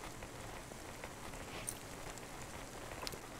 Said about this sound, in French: C'est vrai qu'il pleut pas mal hein, ici.